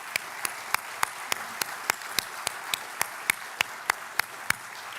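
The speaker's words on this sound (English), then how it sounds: "Let's give all those faculty and staff a round of applause." A university award ceremony audience applauds faculty and staff, a soft steady bed of clapping punctuated by evenly spaced sharp, louder claps close by.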